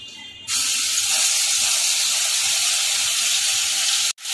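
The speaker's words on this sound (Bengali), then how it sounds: "এই তেলের মধ্যে আমি প্রথমে দিয়ে দেবো পোস্ত বাটাটা।" Ground poppy seed paste dropped into hot oil in a pan bursts into a loud, steady hiss and sizzle up close that holds for several seconds before briefly cutting out near the end.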